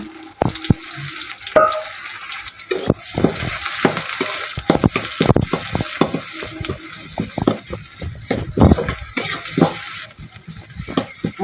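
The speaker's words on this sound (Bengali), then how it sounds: "পেঁয়াজগুলো ভেজে নেব পেঁয়াজ বেরেস্তা" Onions frying in oil for chicken biryani, a crackling sizzle broken by repeated clattering stirs and scrapes of a spoon in the pan, close and fairly loud, with no talking.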